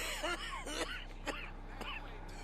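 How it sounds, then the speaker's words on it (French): Game character coughing up blood, a run of about five harsh, wet coughs and throat-clearing bursts in quick succession, close and fairly loud over a low steady background hum. "ils toussent du sang"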